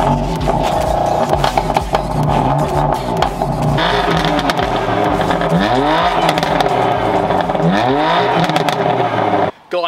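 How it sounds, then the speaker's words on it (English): A BMW M4 Competition convertible, a 500 bhp car, its engine rumbling up close with two rising revs near the end over a steady low drone and some clatter. "that is my BMW M4 competition convertible"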